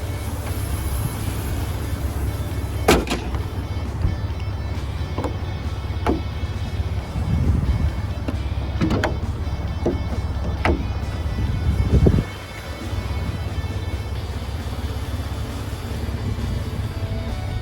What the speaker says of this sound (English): I'm gonna put the hood down.